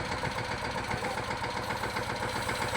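A tractor engine runs steadily at idle on a farm while onions are loaded, a continuous mid-pitched throb with even vibration and no voices.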